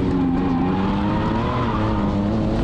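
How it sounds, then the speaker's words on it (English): Porsche 993 GT2 Evo race car, tuned to 1007 horsepower, sliding with tires skidding over a loud, continuous engine roar, close and sustained throughout. "The biggest slide you can do with that car."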